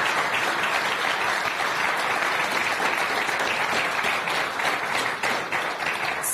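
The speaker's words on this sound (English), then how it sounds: "I would like to give a round of applause for all of you for hosting us here" An audience at a youth panel forum applauds with a dense, steady round of clapping. It stays loud and even throughout, with no break.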